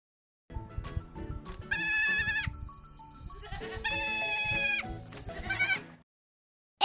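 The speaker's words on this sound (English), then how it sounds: "G for goat." A goat bleats loudly several times up close, long wavering cries separated by short pauses, with some rustling between calls.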